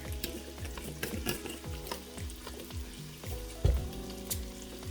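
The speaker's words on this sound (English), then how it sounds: "Add in the minced garlic." Minced garlic going into a pot for chicken pot pie soup, with close stirring and clattering over a steady background sizzle, plus one sharp knock near the end.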